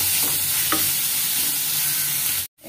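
Onions fry and sizzle steadily in a pan for a raw jackfruit chop, with a constant loud hiss, a couple of faint stirring scrapes, and a sudden cutoff near the end.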